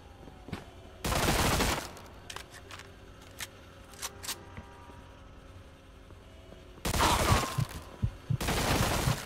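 Two loud bursts of automatic gunfire in Mafia 2: Definitive Edition, each lasting about a second or more, separated by quieter stretches of scattered single clicks and distant shots.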